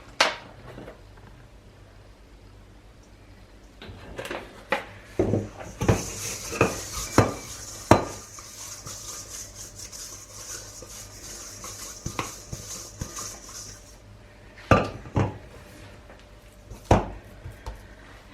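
Stromboli dough being handled in a pan greased with a little oil, with close clinks and knocks of the pan and utensils and a stretch of soft rubbing and scraping in between.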